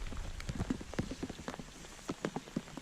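Rain falls at a pond during a passing summer cold front, scattered close drops pattering irregularly on a surface or camera housing over a soft wet background.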